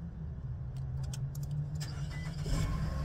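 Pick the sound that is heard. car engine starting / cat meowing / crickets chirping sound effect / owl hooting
car engine starting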